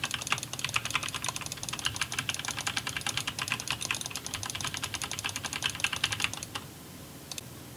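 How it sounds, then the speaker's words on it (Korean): Rapid, steady keystrokes on a mechanical keyboard with red switches, joined by a few mouse clicks, clattering close and clear for about six seconds before stopping, with one last isolated click near the end. "기계식 적축 키보드와 마우스를 눌러보도록 하겠습니다."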